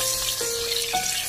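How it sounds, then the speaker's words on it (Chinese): Pork belly frying in hot oil in a wok makes a steady hissing sizzle with a faint tonal ring and soft clinks, continuous and close, with no talk. "油热之后下入切好的5花肉， 炒出5花肉的香味"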